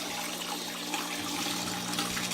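Aquarium water rushing steadily through a siphon hose as a tank is drained, a continuous close gurgling flow with no talk.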